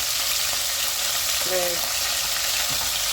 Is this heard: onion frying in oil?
yes